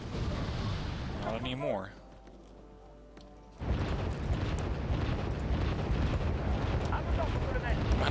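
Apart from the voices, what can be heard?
mortar fire in video game Wargame Red Dragon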